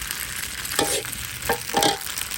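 Food sizzles and crackles in a hot pan, with several louder bursts as it is stirred and tossed; close and steady, no talking.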